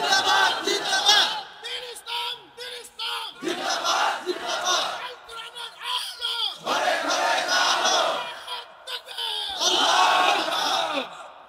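A large crowd at a Ramadan sermon roars a takbir response in repeated loud collective shouts, four or five surging bursts separated by short pauses.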